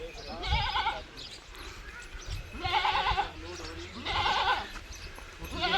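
Goats bleat at a farm while being loaded into a vehicle, three loud, wavering calls at roughly regular intervals close by, with someone talking in the background.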